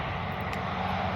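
A carbureted 25cc four-stroke Honda engine on a WX10TA water pump runs at a steady, continuous drone, close and unbroken, watering a sweet corn field.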